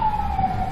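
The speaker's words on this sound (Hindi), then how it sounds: "आपने सुना होगा अभी सायरन की आवाज" An emergency siren wails steadily and close, a sustained tone from a fire engine or ambulance with a faint low road rumble beneath, no voices.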